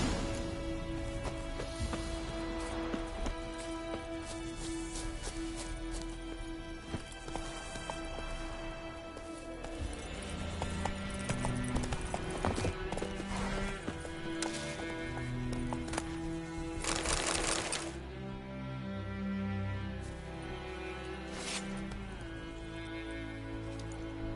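Horses ridden in the Witcher video game, with soft clip-clop hoof steps and an occasional whinny under a steady, noisy backdrop that sounds like rain, no talk.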